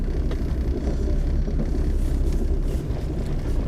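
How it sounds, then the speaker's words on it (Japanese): Keiichi Tsuchiya's Toyota AE86 drives along, its engine a steady low rumble heard from inside the cabin, continuous and fairly loud with no talking. "俺今ドリキンの86運転してる。"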